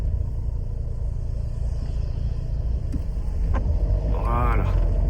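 A Renault Clio 2 engine rumbles at full throttle in first gear, heard from inside the car with a steady low drone that builds slightly toward the end.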